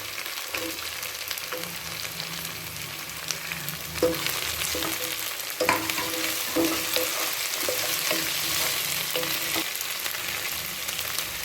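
Carrots and potatoes sautéing in a pan for channa kurma, a continuous crackling sizzle up close with repeated spoon scrapes and clinks through the middle and no talking.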